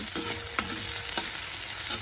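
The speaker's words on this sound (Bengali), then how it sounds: "আমি এটা ভাজা করে নিই" Food frying in a pan with a steady bright sizzle, broken by a few soft scraping stirs, close and alone with no talk.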